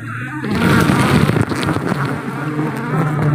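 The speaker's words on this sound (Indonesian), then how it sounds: "Ini lebahnya dia abangku." Giant honey bees (Apis dorsata) swarm at a wild forest nest during a honey harvest, a dense, loud, continuous buzz close by with the drone rising and falling slightly.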